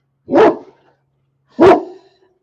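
A dog indoors barks at a reflection in a glass door: two loud, close barks about a second apart, with silence between them and no voices.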